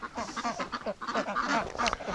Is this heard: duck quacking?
yes